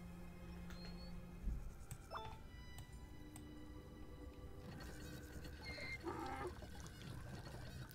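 Water pours and trickles steadily in the Mortimer Beckett adventure game, a soft continuous stream under faint game tones and effects.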